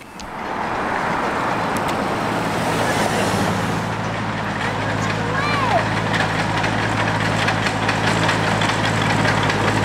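A truck engine runs at a steady, close idle with a low rumble throughout, while someone talks over it.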